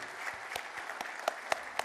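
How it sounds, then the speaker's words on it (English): Audience applause at a real estate awards ceremony, a steady patter of many hands clapping with a few sharper claps standing out, no talk over it. "A huge round of applause"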